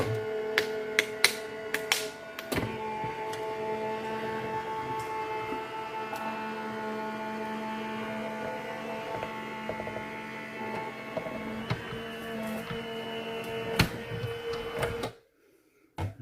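A cutting machine runs steadily for about fifteen seconds, a continuous mechanical hum and whir dotted with sharp clicks and ticks, then cuts off abruptly into near silence.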